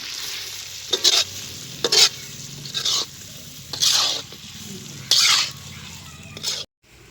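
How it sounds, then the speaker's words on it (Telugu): Chicken fry with kasuri methi and chicken masala, cooked in a pan over a wood-fired stove, being stirred in six or so scraping strokes over a steady sizzle, close and fairly loud, with no talking. "కసూరి మెంతి, చికెన్ మసాలా 2 కలిపేసేస్తున్నాము."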